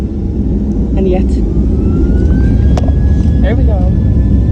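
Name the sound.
Malaysia Airlines airliner taking off at night from Langkawi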